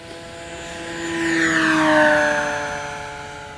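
Avios Grand Tundra 2 1700mm electric RC airplane passing overhead, its propeller whine rising and sweeping in pitch as it approaches, peaks near, then recedes, with steady motor harmonics and no talk.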